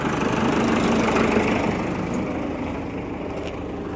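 Tractors and farm machinery running on open farmland, a steady continuous engine drone that stays close and fairly loud throughout, easing slightly in the second half, with no talking.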